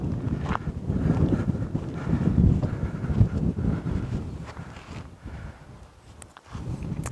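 Southeast wind blowing across open prairie, buffeting the microphone with a steady low roar that rises and falls in gusts, with no talk.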